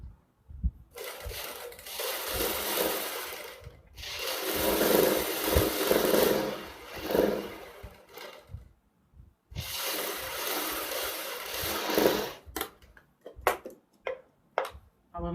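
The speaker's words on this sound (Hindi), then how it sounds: "तो सबसे पहले हम इधर सिलाई लगा लेते हैं" A sewing machine stitches the neckline of a kurti in long continuous runs separated by brief pauses, then gives way to a few short, sharp handling clicks near the end.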